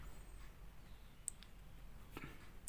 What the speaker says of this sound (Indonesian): di sini klik titik 3 pojok kanan atas